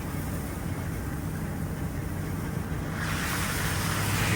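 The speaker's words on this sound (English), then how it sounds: "You hear the water." Rainwater flowing across a farm after a downpour, a steady broadband rush that stays constant and close and swells slightly louder toward the end, with no voices.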